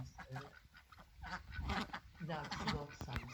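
Domestic ducks quack and honk close by in a backyard pen, in repeated bursts, with people talking over and between the calls.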